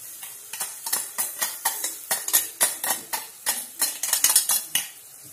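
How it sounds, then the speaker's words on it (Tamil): Onions and ginger garlic paste sautéed in a pan for prawn curry, with a spoon scraping and stirring in a steady rhythm of about a dozen loud, close metallic strokes over a faint sizzle, no voices. "இன்னும் அப்படியே கொஞ்சம் நேரம் வதக்கணும், நல்லா அந்த சார் இறங்குற வரையும் வதக்கணும்"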